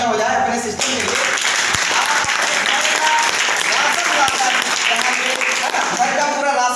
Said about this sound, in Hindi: इसके लिए एक जबरदस्त तालियां हो जाए अपने सिस्टम के लिए